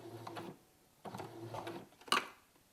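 A sewing machine stitches a quarter-inch seam along curved quilting fabric strips in three short, quiet bursts separated by pauses, with a sharp click at the end.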